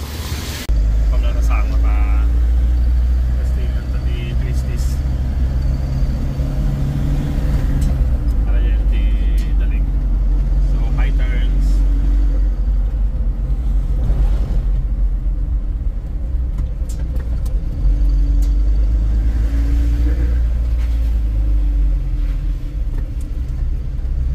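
A 2024 Mitsubishi L300FB Euro4 van on Maxxis Worm Drive AT tires cruises on a mountain road toward Baguio, its steady low engine and road rumble continuing close and loud throughout, with faint voices now and then.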